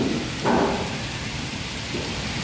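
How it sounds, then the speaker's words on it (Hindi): Heavy rain pours down in Hyderabad, Pakistan as a steady, dense hiss with no pauses, fairly close and loud, and a brief louder surge near the start. "बारिश देखो।"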